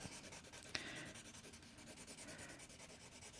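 Graphite pencil held on its side shades hair strokes across paper, a close, steady dry scratching and rubbing with quick repeated strokes and one sharper tap near the start.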